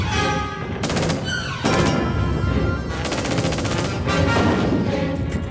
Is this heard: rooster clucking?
no